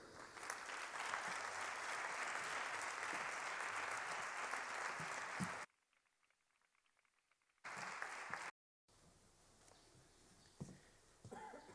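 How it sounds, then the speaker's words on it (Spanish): Warm applause from a conference audience welcoming the speaker at a brotherhood gathering, dense steady clapping for several seconds that breaks off, then returns in short bursts with quieter room sound between. "Démosle un cálido aplauso a Andrés Luque Teruel"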